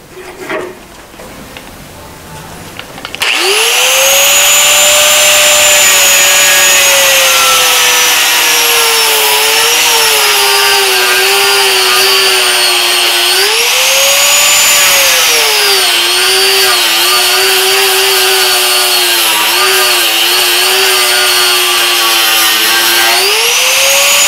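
A power tool cuts into metal during a car brake inspection, starting with a brief scrape and then a loud, sustained whine that rises and falls as the cut proceeds.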